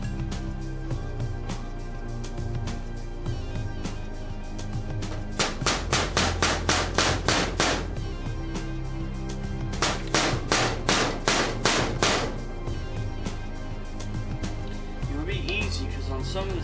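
A hammer taps parts out of an Astra 400 type 1 9mm Largo pistol during a full teardown, heard as close, quick bursts of sharp metallic taps in rhythmic runs, with someone talking around them.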